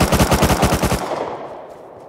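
MP5 submachine gun firing in the survival game Rust: a loud, rapid burst of about a dozen shots over one second, followed by a fading echo tail.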